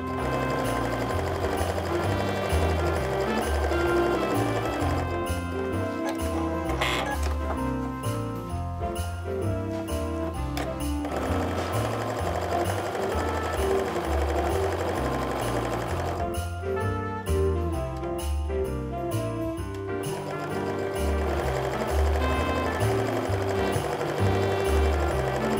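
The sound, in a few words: sewing machine chain piecing quilt fabric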